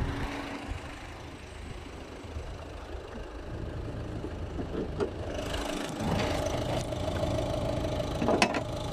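A Ford C-Max 1.6 HDI diesel engine idles at close range, a steady low rumble with a faint ticking rhythm that grows slightly louder and busier toward the end, with no voices.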